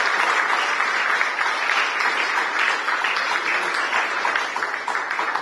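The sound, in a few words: audience applause at a university ceremony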